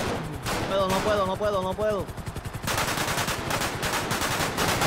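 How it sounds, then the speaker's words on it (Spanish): Rapid bursts of gunfire in the video game GTA roleplay, loud and continuous through the second half, with someone talking over the start. "Métale un par de tiros."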